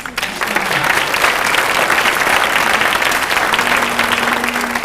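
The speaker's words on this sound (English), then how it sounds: "So would you give yourselves a round of applause?" The audience at a school symphonic orchestra's fall café concert breaks into loud, dense applause that holds steady for several seconds, with a faint tone lingering underneath.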